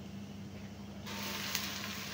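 Leftover fried anchovies with spices sizzle in hot oil while being stirred, a steady close frying hiss that swells halfway through, with a faint scrape of the utensil.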